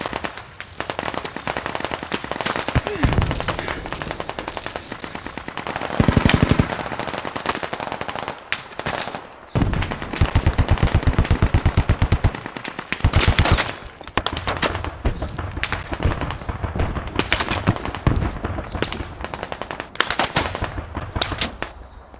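Rapid automatic gunfire bursts crackle in the military shooter game Squad, dense rattling volleys with short pauses, some close and loud, others more distant, continuing throughout.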